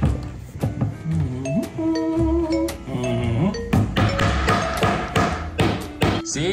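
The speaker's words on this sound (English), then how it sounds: "Just takes persistence and hammering." Close, sharp hammer blows knock a piece of a custom spiral cat staircase into place, irregular taps and thuds, louder in a quick run near the end, with some speech between strikes.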